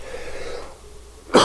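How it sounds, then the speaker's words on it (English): A single harsh cough from someone fighting off a cold bursts out near the end, loud and close, after a stretch of quiet room tone. "I'm going to cough because fighting off a cold or whatever here."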